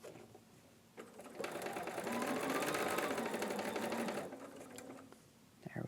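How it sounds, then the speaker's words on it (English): A sewing machine stitches across a seam of a plaid Sash-ay quilt block. It starts with a click, then gives a close, steady mechanical whir for about three seconds before slowing and stopping. "I'm going to sew one stitch over that seam"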